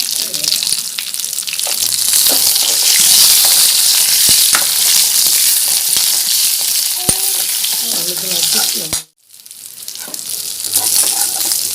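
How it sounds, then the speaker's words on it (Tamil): Ragi mani kozhukattai, small steamed finger-millet dumplings, tumbled into hot tempering and stirred, sending up a loud steady sizzle with scraping spoon clicks, a brief silent break near the end before the frying noise resumes. "அதை தூக்கி இதில் கொட்டிடலாம். கொட்டி கிண்டலாம்."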